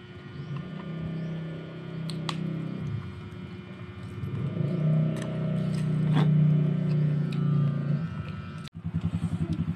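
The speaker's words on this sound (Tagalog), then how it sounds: "Narinig na po namin yung" A motor engine arriving and growing steadily louder, a low harmonic drone swelling as it approaches, with some background voices and clatter before a sudden cutoff near the end.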